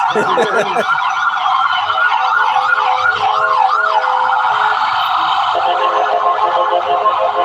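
A loud wailing ambulance siren on a Philadelphia street sweeps up and down continuously, close by and dominating the scene.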